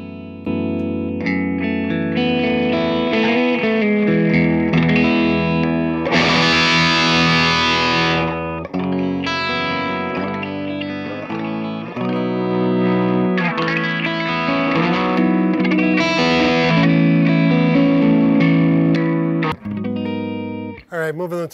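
Electric guitar played through a Revival Drive overdrive pedal into a Dr Z Carmen Ghia amp, a loud, steady run of driven chords and riffs with sustained, saturated tone throughout, alone with no talk.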